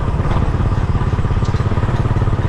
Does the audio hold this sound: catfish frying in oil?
no